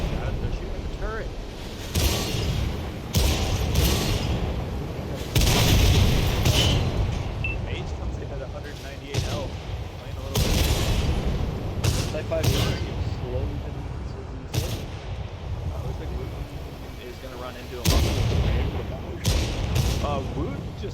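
Heavy tank guns boom repeatedly in an online tank-battle game match, loud thumping shots and blasts recurring every couple of seconds beneath continuous excited commentary.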